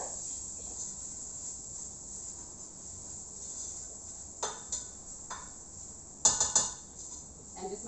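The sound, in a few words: stirring spices in a cooking pan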